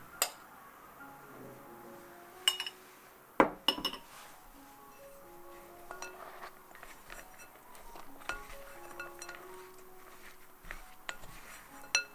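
Dry flour, almonds and chocolate chips being mixed in a bowl for chocolate almond biscotti, with a soft continuous scraping and stirring and a few sharp clinks against the bowl, close and fairly quiet.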